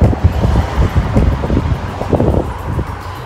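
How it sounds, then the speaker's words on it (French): Strong evening wind at Port-la-Nouvelle buffets the microphone with heavy low rumbling gusts, continuous and loud, with faint road noise in the background. "il y a vraiment beaucoup de vent ce soir"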